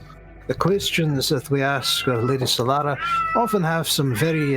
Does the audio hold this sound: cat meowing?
yes